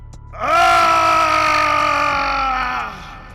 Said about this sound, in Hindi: मटका फूटते ही भूत चिल्लाने लगता है